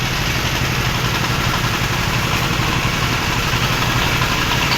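Five or six sewing machines run together in a small pants factory in Konabari, Gazipur, Bangladesh, making a loud, steady, continuous mechanical whir and hum throughout, with no talk.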